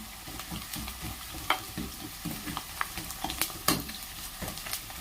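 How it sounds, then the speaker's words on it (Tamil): Green chilies and curry leaves fry in a pan for fish curry, a low steady sizzle broken by frequent spatula scrapes and clinks against the pan. "ரெண்டு பச்சை மிளகா கருவேப்பிலை ரெண்டு அதையும் போட்டு வணக்கிக்கலாங்க"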